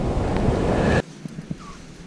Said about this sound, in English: But boy, is it windy.